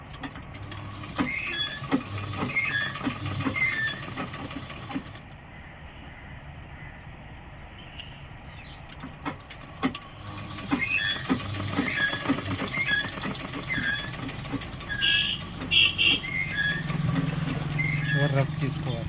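A sewing machine stitches folded fabric in rapid rattling, ticking bursts close by, going quiet for a few seconds midway before running again, with a voice heard at times.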